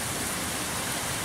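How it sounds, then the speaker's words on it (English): Heavy rain pours steadily outdoors around a bottle garden, a dense, even wash of hiss with no breaks, moderately loud and close, with no talking. "it's raining cats and dogs out there"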